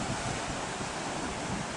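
Sea waves wash continuously onto a beach shore, a steady broad roar mixed with wind buffeting the microphone, with no distinct breaks.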